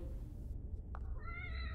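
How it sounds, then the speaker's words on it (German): A cat meows once inside a video game, a short, clear mew with rising and falling pitch heard over a steady low background hum. "Dumme Katze!"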